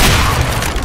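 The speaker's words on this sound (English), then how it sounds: "Flashbang." A flashbang grenade detonates in the Counter-Strike video game, a loud, dense broadband blast that fills the whole short moment with no pause.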